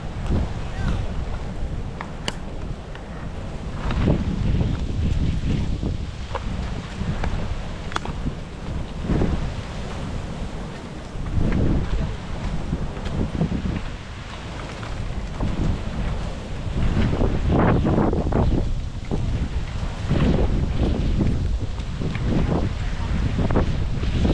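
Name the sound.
big ocean waves with wind on the shore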